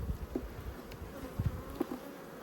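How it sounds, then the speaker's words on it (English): Honey bees hum softly inside an opened hive, a low, continuous buzz with small swells from individual insects close by. "So there's plenty of bees up in here."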